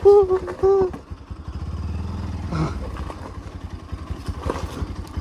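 A Hero Xpulse adventure motorcycle rides a rough off-road hill track, its low engine thumping and pulsing close by, with a brief voice at the start and clattering over uneven ground.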